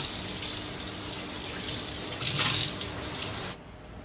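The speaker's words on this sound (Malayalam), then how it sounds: "ഇനി നമുക്ക് വെള്ളത്തിലൊന്ന് കഴുകി കൊടുക്കാം." A metal kitchen vessel is rinsed under a running tap. The water makes a steady hiss, swells briefly when it strikes the vessel, then cuts off abruptly near the end.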